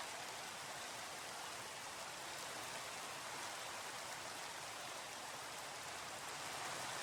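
Steady rain falls in a video game, a continuous, even hiss of drops that stays constant and fairly quiet throughout with no talk.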